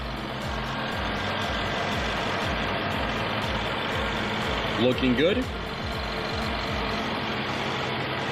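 A 2019 Land Rover Range Rover Sport Supercharged engine idles with a steady low rumble, close and even throughout, while someone speaks briefly near the middle.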